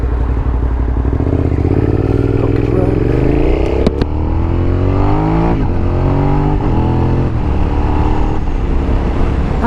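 A motorcycle engine revs hard and climbs through the gears, with one abrupt quick shift partway through. The loud, close roar runs continuously and carries some mechanical clatter.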